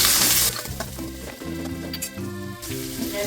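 Chopped onions frying in coconut oil in a pan for an egg and potato curry: a steady hiss and sizzle with a brief louder burst at the start, heard under background music.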